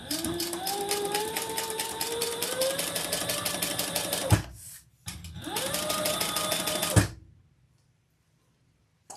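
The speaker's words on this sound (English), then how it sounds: "Then we're going to sew this together at the seam allowance in the pattern." A sewing machine stitches a seam in two long runs, the motor's whine climbing in pitch as it speeds up, then stopping abruptly each time; a brief pause separates the runs and quiet follows.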